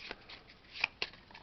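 A deck of Numenera game cards shuffled by hand: quiet, soft riffling and sliding with a couple of crisper snaps, close by and alone.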